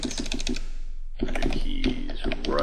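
Rapid clicking keystrokes on a computer keyboard, close and crisp, in quick bursts with a brief pause midway before the typing resumes, while a voice speaks faintly over it.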